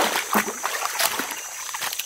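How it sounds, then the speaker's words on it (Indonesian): A river runs behind a pig pen in Kalimantan, giving a steady hiss of flowing water with small splashes and trickles close by. No one speaks. "Nah, kita lagi di sungai."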